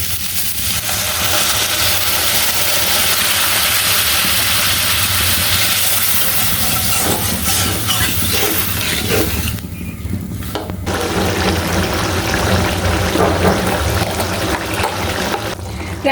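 Water pours steadily into a pan of potatoes and prawns cooked down with spices, forming a continuous loud trickling, hissing rush that runs alone the whole time, with a brief lull partway through.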